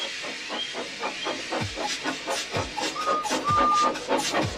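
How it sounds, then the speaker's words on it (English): A steam engine gives off a steady, loud hiss of escaping steam, with rhythmic chuffs and faint rail clatter repeating underneath and a couple of brief whistle-like tones drifting through. "So they lit his fire, made lots of steam, and Edward puffed away."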